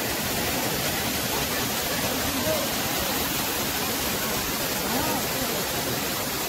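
Waterfall at Rock Garden in Darjeeling, a continuous broadband rush of falling water, loud and steady from start to finish with no clear breaks.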